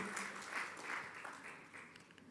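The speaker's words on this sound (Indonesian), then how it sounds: "mari beri tepuk tangan sorak-sorai yang meriah bagi Tuhan kita" A church congregation at an Ascension Day service applauds and cheers, a steady, fairly faint wash of clapping lasting a couple of seconds with no clear talk over it.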